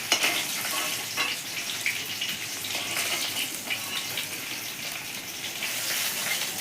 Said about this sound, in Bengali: মাছগুলো এবার লাল লাল করে আমি ভেজে নিচ্ছি।